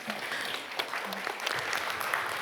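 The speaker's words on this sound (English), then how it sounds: "Yes, applause for him." Seminar audience at an international business conference applauding a participant, a moderate, continuous patter of clapping with a few sharper claps and faint voices underneath.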